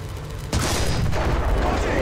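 Tank cannon fire in War Thunder, a Chi-To Late firing: a single loud blast erupts half a second in and rolls on as sustained rumbling noise.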